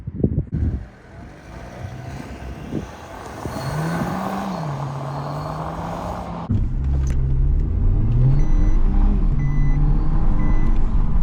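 Renault Clio 1.3 TCe, 130 hp with EDC automatic, in Icon RS trim: the engine idles, then revs rise in a smooth swell before a louder, sustained rumble takes over, with buzzy wind-buffeted noise throughout.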